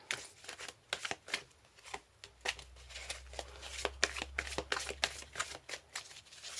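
Lenormand cards shuffled by hand, a run of crisp riffling flicks and slaps in quick uneven bursts, close and fairly soft, with a low hum underneath and no talking.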